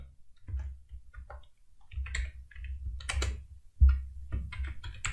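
Close computer keyboard typing in uneven bursts of clicking keystrokes, with short pauses between runs and a louder key press near the end, no voice over it.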